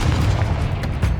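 Confringo fire blast spell going off in Hogwarts Legacy, a dense low booming rumble that stays loud and sustained for its whole brief length with no pause.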